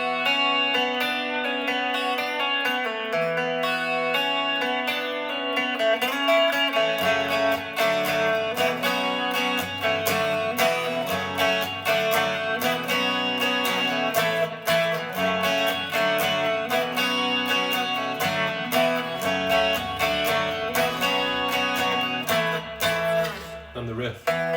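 Electric guitar chords and riff of a song play continuously and fairly loud, with sustained ringing strums and busy strumming transients throughout.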